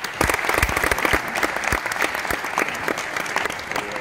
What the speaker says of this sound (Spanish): Así que un aplauso para ellos, por favor.